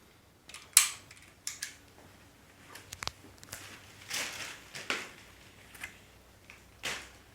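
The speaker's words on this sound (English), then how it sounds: "You could use a pair of scissors or a knife to cut them open." Scissors or a knife cut zip ties off a Pride Go Go LX mobility scooter tiller during unboxing, giving scattered faint snips and clicks with handling noises over several seconds.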